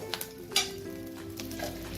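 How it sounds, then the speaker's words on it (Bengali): Soft background sizzle of black cumin seeds (kalo jeere) frying in oil, with a few sharp pops and a light metallic scrape near the start. "কালো জিরেটা থেকে ভাজা ভাজা গন্ধ বেরোলে"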